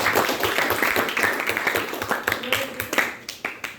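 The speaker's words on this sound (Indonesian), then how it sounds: "Tepuk tangan sekali lagi ya" A classroom of students claps for a group's chemistry presentation on acids and bases, a brisk burst of close hand claps that thins into scattered individual claps, with faint voices underneath.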